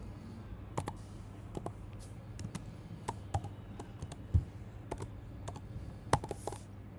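Computer keyboard being typed on while entering graduation marks into an online exam form: sparse, quiet key taps in uneven bursts, close to the mic, over a faint room hum, no voice.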